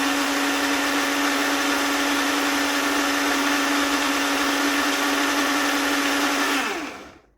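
A countertop blender runs steadily on dates, a loud continuous motor whine with grinding texture that holds for several seconds and then spins down to silence at the end.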